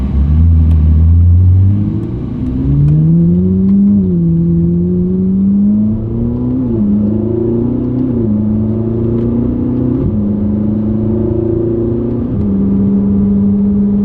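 A Ferrari 458 with a valved S-Line exhaust pulls away under acceleration, its engine note climbing through several gears in stepped rising sweeps, loud and steady from inside the cabin with no talk.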